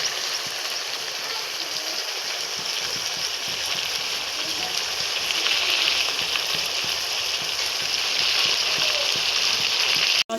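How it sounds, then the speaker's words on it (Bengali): Water goes into a pan of sizzling meat and potato curry, producing a steady loud frying hiss that swells toward the end and then stops abruptly. "এবার জল দিয়ে দেবো"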